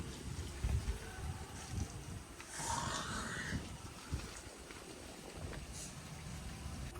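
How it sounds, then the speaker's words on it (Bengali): Wind blowing outdoors across open red-soil countryside in Birbhum, a faint low buffeting rush over the microphone that swells and fades, with a brief rising whoosh midway. "কি সুন্দর হাওয়া দিচ্ছে দেখুন"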